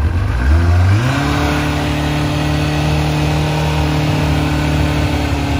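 A 2002 Kawasaki ZX6-R sport bike engine cranks and fires up on choke, its pitch rising over the first second before settling into a steady, loud, close-up high idle with rich harmonic drone.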